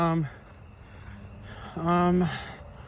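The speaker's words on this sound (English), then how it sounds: "Southern ground cricket." Southern ground cricket chirping in a nighttime outdoor chorus, with two loud, close bursts of rapid trilling at the start and again near the end, and a steady fainter insect drone between them.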